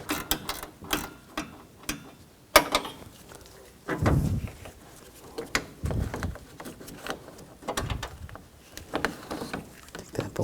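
Ratchet and wrench clicks and metallic clanks as a 10mm bolt is worked loose on a 2004-2009 Toyota Prius during radiator fan assembly removal, in short irregular bursts at close range.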